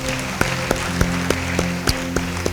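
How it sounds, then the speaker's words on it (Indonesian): A church congregation claps together at a service, a steady wash of applause under a sustained organ-like musical drone with a few sharper claps standing out. "Beri tepuk tangan bagi dia"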